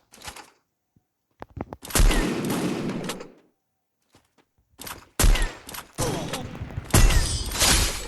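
Gunfire in the mobile shooter Free Fire, with sniper and MP40 weapons involved: a few isolated shots followed by several loud, close bursts of rapid automatic fire separated by brief pauses.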